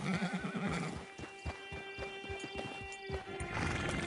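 A horse in a PS4 game trots with a steady clip-clop of hooves and gives a whinny near the start, the hoofbeats close and rhythmic under a low game backdrop.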